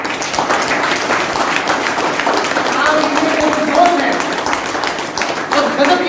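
An audience at a community gathering claps loudly and steadily for two honourees, a dense, sustained wash of applause with a voice faintly audible through it.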